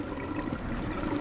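Floodwater pouring and rushing into an underground mall parking garage in the drainage simulation game DrainSim, a steady, broad wash of gushing liquid with no break across the moment.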